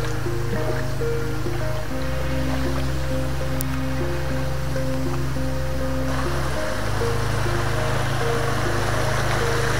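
A jungle waterfall feeds a stream that rushes steadily for the whole stretch, a dense broadband wash of flowing water with a low, even hum running beneath it.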